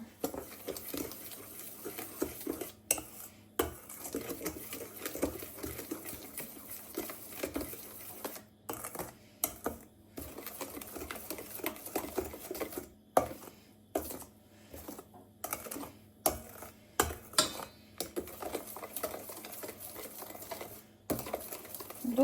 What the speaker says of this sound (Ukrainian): добре-добре розмішуємо нашу підливку